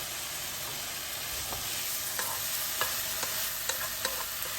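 Rice with vegetables sautéing in a pan, a continuous loud sizzle beneath light, regular stirring scrapes and taps, close up with no talking.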